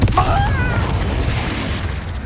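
A Confringo fire spell bursts in Hogwarts Legacy, a sharp blast at the start followed by a rumbling boom and sustained roar that fills the whole moment, loud and close.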